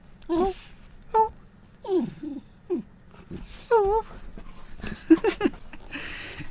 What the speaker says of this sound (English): I'm sure my dog talks